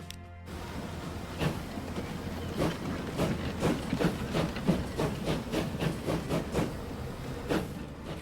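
A train runs on track in the video game Transport Fever 2, a steady rolling rumble with a regular clickety-clack of wheels over rail joints and a faint hiss, continuous and moderately loud with no talking.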